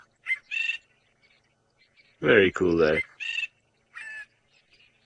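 A drongo calls at sunrise on a safari drive: short, bright, nasal phrases scattered across the stretch, with a man's brief remark in the middle.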